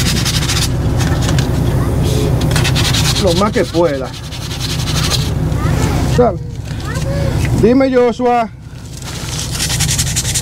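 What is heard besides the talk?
sanding metal tank with sandpaper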